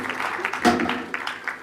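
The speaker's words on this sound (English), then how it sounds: "Kindly let's clap for her the more." Audience members clap for a presenter at a government school anniversary session, a short burst of scattered hand claps with a louder clap midway, moderately close.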